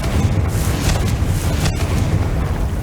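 A Confringo fire spell explodes in the game Hogwarts Legacy, a loud, sustained booming roar with dense low rumble and crackling hiss throughout.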